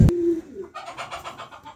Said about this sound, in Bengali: এই খামারটা মিরাজুল ভাই, একজন প্রবাসী ভাই, উনি শখ করে কবুতর পালে, অনেক মুন্ডিয়ান তার কাছে আছে।